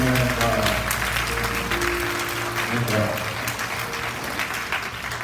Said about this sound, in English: join in and giving my dad a round of applause at this time